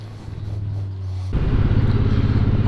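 A car rolls along the road with a steady low engine drone and road rumble that grows louder and rougher partway through as it picks up speed, no voices over it.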